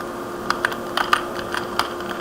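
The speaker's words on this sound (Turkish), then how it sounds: "klavye sesleri olabilir abi" A few quick, light keyboard key clicks, irregular and close, over a faint steady hum.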